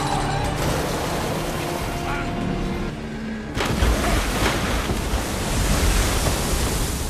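A car plunges into the sea in a film scene: a steady rushing wash of wind and surf, then a sudden louder burst of churning water that continues as a broad, heavy roar.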